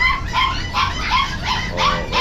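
A blue and black-blue Pomeranian puppy at a pet shop yips about five times in a steady rhythm, close and fairly loud, with whimpery high-pitched barks.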